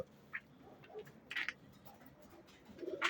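Van Arab pigeons, young females ready to pair, give a few faint, brief calls spaced apart against a quiet background.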